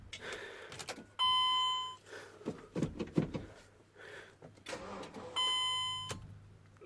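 A Mercedes Vito 906 van with a weak battery goes through ignition cycling: warning beeps and electrical whirring sound in short bursts, with faint clicks and brief mechanical activity in between, recorded close inside the vehicle.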